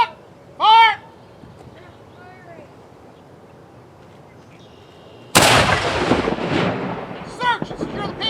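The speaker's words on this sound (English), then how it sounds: "Guns ready? Number one, fire!" A single 1812-era artillery cannon fires in a demonstration, one loud, close blast with a broad rumbling tail that lingers for several seconds after a quiet lead-in with a faint shout.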